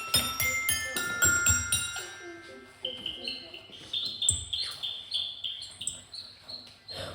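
Chirpy bird calls imitating a warbler ring out in a French children's music story performed by a preschool class, bright repeated tweets and tinkling notes over a busy mix with some voices.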